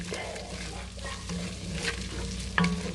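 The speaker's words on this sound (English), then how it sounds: "constantly stir it, because we want to make sure that we get no lumps." Spoon stirring a roux-based gravy for chicken and dumplings in a pan over medium-low heat, a steady soft scraping and bubbling texture under a low background hum, no talk.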